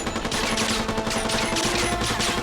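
A burst of rapid gunfire in an Arrow TV episode, with dense overlapping shots mixed into dramatic background score over a short stretch.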